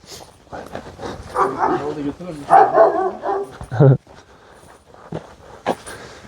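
A dog barks a few times amid people talking nearby, with some footsteps and movement in the background.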